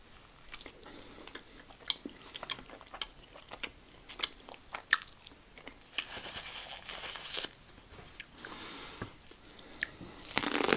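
Someone chewing homemade cheesy fries close up, with irregular crunchy bites and moist mouth sounds that build toward the end.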